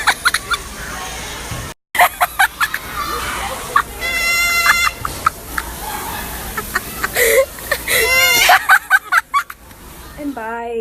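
Indoor bird making repeated loud squawking calls, short harsh bursts coming in irregular clusters close to the recorder, mixed with people talking and laughing nearby.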